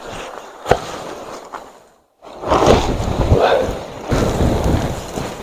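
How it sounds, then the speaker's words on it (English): Strong gusting wind on the Solway coast buffets the microphone in broad, roaring surges, with a brief near-silent lull midway before heavy gusts return, plus a few sharp knocks. "Oh, she's windy."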